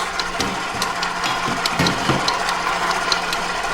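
A KitchenAid 8 quart stand mixer working cookie dough, heard as a steady motor hum with repeated ratcheting, clunking knocks as the dough turns in the bowl, close and fairly loud, with no talking.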